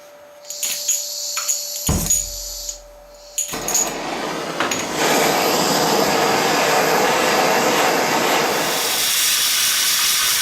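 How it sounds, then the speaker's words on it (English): Propane torch heating a small steel magazine spring for a miniature M1911, with a brief click and pop of ignition, then a steady loud roaring hiss that continues to the end. "So I'm using a propane torch."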